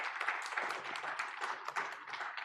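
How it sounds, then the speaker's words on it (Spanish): Audience applause at a human rights panel event, a brief burst of many hands clapping together, fairly faint and without voices. "Un aplauso para Eduardo, por favor."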